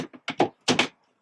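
A cabin door on a 2019 Chris-Craft Launch 28 GT bowrider is popped open, giving a few quick close thunks and clicks in a short burst, with no talking.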